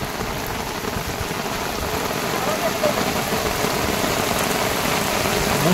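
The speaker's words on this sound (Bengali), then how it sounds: "মুষলধারে বৃষ্টি হচ্ছে।" Heavy rain pours during night fishing on a boat in the Sundarbans, a dense unbroken roar of drops drumming on surfaces close by and growing slightly louder, with a voice partly buried under the downpour.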